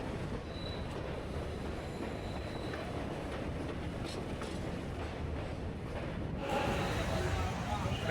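A train at KSR Bengaluru Majestic railway station, with a steady, loud wash of rolling and rumbling rail noise that swells slightly near the end, and faint voices underneath.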